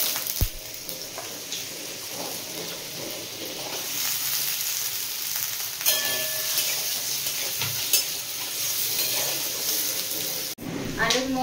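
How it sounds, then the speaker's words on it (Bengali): Potatoes frying in hot oil make a steady sizzle broken by clatter and scraping as they are stirred in the pan, with a sharp knock at the start and another just before the end. "ওই তেলের মধ্যে আলুটা ভেজে নেব"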